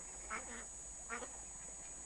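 Ducks in a pen at night give two short bursts of quacking, each a quick cluster of calls, against a quiet background with a steady faint hiss.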